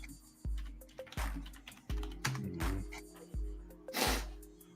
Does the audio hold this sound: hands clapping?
no